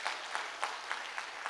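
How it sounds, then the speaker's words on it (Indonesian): A church congregation applauds at an anniversary gathering, a brief burst of clapping with a few distinct sharp claps rising from a soft, steady wash. "Tepuk tangan dulu untuk Tuhan."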